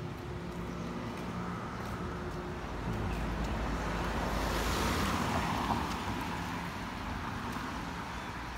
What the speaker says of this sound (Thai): ทะเลกำลังขึ้นงาม